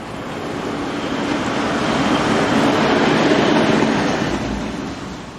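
SNCF locomotive number 9225, one of the few still in original green livery, runs west hauling a train, a steady loud rumble that swells and fades over several seconds with no talking.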